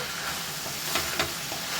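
Beans, carrots and soya chunks for a vegetable pulao sizzle in a pan with a constant close hiss, broken by a couple of brief stirring clinks.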